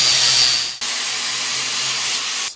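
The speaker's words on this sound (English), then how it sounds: "It's the 3M bristle disc for grinding metal. We're going to try it out on this old axe head." A 3M bristle disc grinds an old double-sided metal axe head, a loud, steady, close abrasive whir that runs continuously, with a brief dip near the start before resuming until it cuts off.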